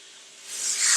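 Chicken sears on a hot grill pan over medium-high heat, a steady close sizzle that rises into a louder, brighter hiss.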